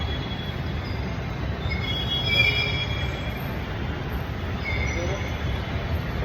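A metro train rumbles steadily inside a Bengaluru station, faint high-pitched wheel squeals rising briefly above the low mechanical drone.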